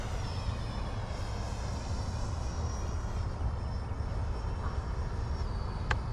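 An E-flite Viper 90mm electric ducted-fan RC jet flies with a steady, even whoosh of the fan that holds at moderate loudness throughout, with no voices.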